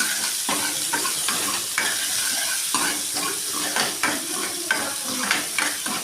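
Chopped onions sizzle in hot oil while being stirred around a pan for a paneer gravy masala, with steady frying hiss and repeated scraping strokes of a spoon throughout.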